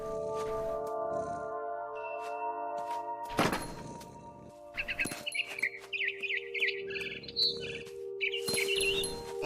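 Quick bright twitters from a barn swallow in What Remains of Edith Finch come in scattered bursts over a steady ambient drone, broken by a few dull thuds and bumps.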